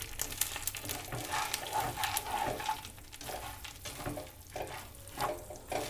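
Roasted peanuts being stirred into hot jaggery syrup for peanut chikki, giving a steady sticky sizzle and scraping stir that runs throughout, with a few sharper clinks and no talking.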